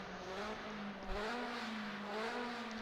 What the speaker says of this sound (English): Actually, it's just Foley revving the absolute tits off of his engine at the end of pit lane.